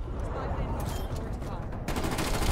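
A teammate fires a weapon in a first-person shooter video game, a dense burst of rapid gunfire heard at moderate distance, continuous crackling shots that intensify near the end.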